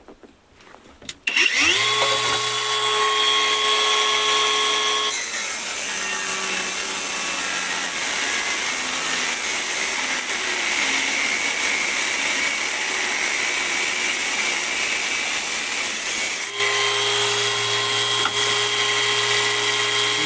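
Procraft Industrial AG125C cordless angle grinder spins up with a high whine, then cuts through a 20 mm round steel bar with a long, loud, grinding screech before freewheeling again near the end.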